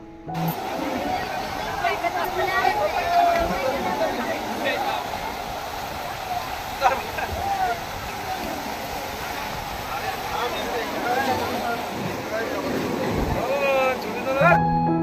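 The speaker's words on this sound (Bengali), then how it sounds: "কারণ ঢেউগুলো এত উথাল পাতাল করছিল" Sea waves churning and crashing at Digha beach in a continuous roaring wash of surf, with wind and faint voices in the background throughout.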